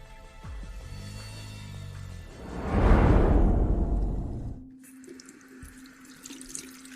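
Hands, stained with blood, are washed under running water: a tap gurgles and splashes, builds to a loud rushing pour midway, then cuts off, leaving faint drips and a low hum, with no talking.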